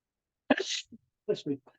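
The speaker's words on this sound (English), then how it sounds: "it can make you sneeze if you need to. Apparently I did." A person sneezes once, sharp and close, during a neck and spine stretching exercise that stimulates the sinuses, followed by a brief quieter breath and a few soft vocal sounds.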